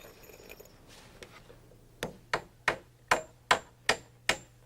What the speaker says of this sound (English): Then positions and nails the middle stringer.